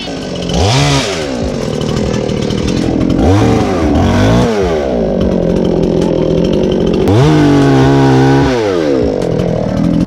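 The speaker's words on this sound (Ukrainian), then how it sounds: "завів він пилку, іде різати" A chainsaw roars continuously close by, its engine pitch rising and falling repeatedly as it revs and bites into wood while cutting down a tree.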